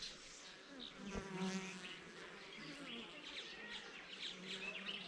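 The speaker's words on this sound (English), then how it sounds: "The bee workers are still collecting honey." Wild bees buzz in a dense, steady swarm around a traditional African beehive in a tree, with birds chirping faintly in the background and a voice speaking briefly.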